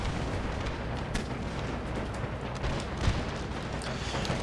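Artillery and musket fire in the Darthmod Empire strategy game, a dense continuous rumble of distant cannon booms and crackling volleys that blend into a steady battle roar.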